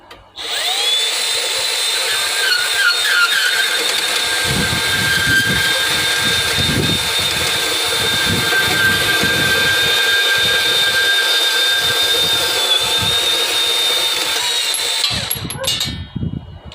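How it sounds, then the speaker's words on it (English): A Hercules 20V brushless deep cut band saw cuts steadily under its own weight, a loud continuous high-pitched whine with a grinding rasp building in the middle, running close for nearly the whole stretch before stopping. "let's do some cutting. Now the weight alone of the bandsaw Should be enough for you not to put any pressure on it"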